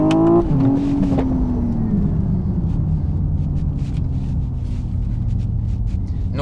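A Hyundai IONIQ 6 N electric car accelerates hard, with a loud continuous drivetrain rumble and a tone that climbs, drops at shifts and rises again through simulated gear changes.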